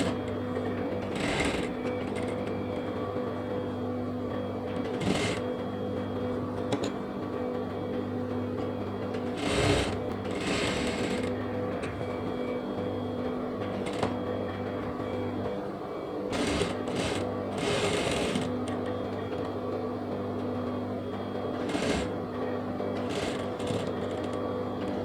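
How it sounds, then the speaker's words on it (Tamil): Sewing machine stitching a cotton nighty, a steady mechanical hum with repeated louder bursts of running, close by throughout with no talk. "இப்போ இதை வந்து ஊசியோட ஒரு தையல் போடுறேன்."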